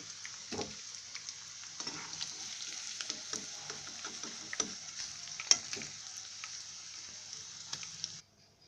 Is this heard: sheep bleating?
no